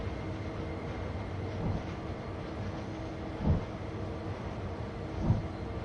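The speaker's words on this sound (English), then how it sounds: "I do love the big American diesel locos." Big American diesel locomotive in Train Sim World 2 on the Cane Creek route, a steady low engine drone with rumbling wheel noise as it crawls along, and a few soft thumps and clicks rising at intervals.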